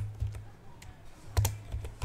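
Computer keyboard keys are tapped in a short, uneven burst of a few close, light clicks on a Windows 11 PC, with no voices.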